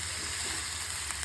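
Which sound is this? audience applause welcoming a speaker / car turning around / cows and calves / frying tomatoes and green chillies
frying tomatoes and green chillies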